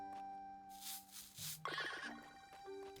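A horse whinnies in the farming video game SoS: Grand Bazaar, a short high neigh rising over steady, gentle game music, moderately loud and without talk.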